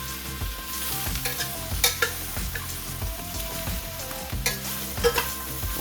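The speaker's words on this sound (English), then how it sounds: "Alors on mélange les champignons, les zucchini, les courgettes." Mushrooms and zucchini stir-fried in a pan over high heat: a steady loud sizzle with repeated scraping stirs and occasional clatter of utensil on pan, continuous and close, with no talking.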